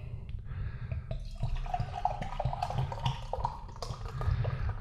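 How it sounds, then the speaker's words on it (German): Chocolate mint nitro foreign extra stout poured hard from the bottle into a glass, a steady close gurgling, splashing stream that runs for several seconds with no voices. "Nitro heißt ja auch immer, gib Gas beim Einschenken. Und das werde ich jetzt auch tun."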